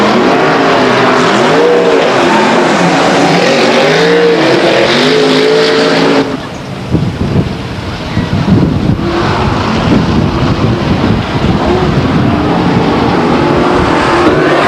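Stock cars race at Stockton 99 Speedway, a loud continuous engine roar with rising and falling pitch as cars pass close. The sound shifts midway into a rougher, lower rumble, and wind buffets the microphone throughout.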